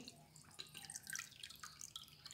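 Water pours into a pot for Punjabi-style dal makhani, a soft, steady splashing trickle that stays fairly faint and continues alone for a couple of seconds.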